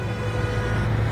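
A car engine rumbling past in the Spider-Man mobile video game, a short steady low drone with a faint tonal hum, loud and close with no speech.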